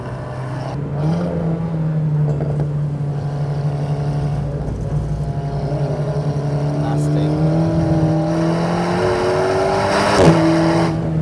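An Alpine sports car at full throttle on the wet Nürburgring, heard from inside with a loud, sustained engine drone climbing in pitch under a voice.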